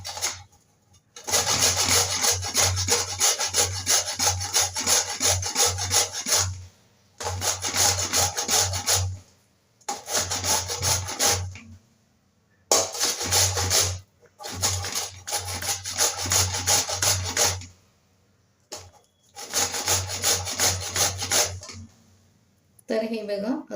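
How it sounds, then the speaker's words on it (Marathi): A raw mango is grated by hand on a metal grater. Bursts of rhythmic rasping strokes come close and loud, each lasting a few seconds, with brief pauses between them. "आता हा आंबा मी किसून घेते."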